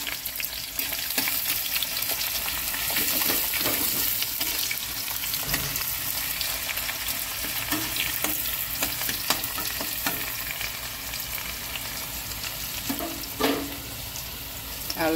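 Onions frying in a pan give a continuous sizzle with scattered scraping and stirring knocks over about fifteen seconds, close and moderately loud, no talking.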